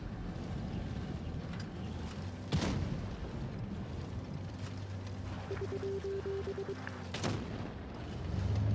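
Tank cannon fire in a video game: two sharp, loud booms about five seconds apart over a constant engine rumble and wind, with a brief tonal whine between them and no talking.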